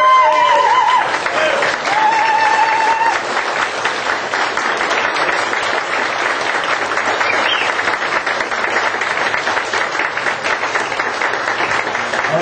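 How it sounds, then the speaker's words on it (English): An audience at a community fundraiser rises for a standing ovation, sustained dense applause from a crowd filling the room, loud and continuous with no let-up. "would you please rise and give them a real ovation?"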